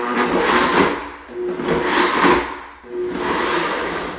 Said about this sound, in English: the ice cubes are mixing and it's getting to the point, this is a really good blender